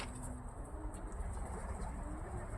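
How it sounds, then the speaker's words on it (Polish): Soft cooing of a racing pigeon hopping about after a special long-distance race flight, low murmuring calls at close range over a quiet outdoor background. "ten właśnie gołąb, który teraz skakuje, był najdłużej w powietrzu"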